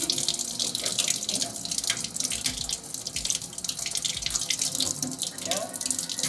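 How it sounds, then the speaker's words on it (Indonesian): Running tap water pours continuously as a stained microscope slide preparation is rinsed under the flow, a steady close splashing into a sink throughout, with no speech. "kita akan membilas preparat ini pada air mengalir selama 2-5 detik"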